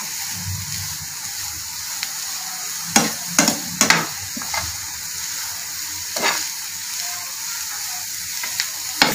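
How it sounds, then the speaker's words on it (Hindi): Chicken spring roll filling with soy sauce and spices is stir-fried in a pan, giving a soft continuous sizzle with scattered clinks and scrapes of a spoon stirring, close up and without talk. "अब इस मसालों के साथ इसको 1 से 2 मिनट के लिए बस भून लें"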